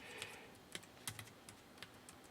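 Someone types on a small computer keyboard, each keystroke a light, irregular click with brief pauses between them, fairly close and quiet.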